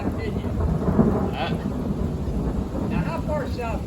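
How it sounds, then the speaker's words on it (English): Deep thunder rolls under steady rain during a summer lightning storm, with some wind buffeting the microphone and faint voices speaking intermittently. "thunder is further south."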